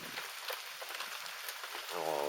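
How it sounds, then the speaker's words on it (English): Rain falls on a porch in a steady, close hiss of drops, with a voice starting to speak near the end. "it's raining."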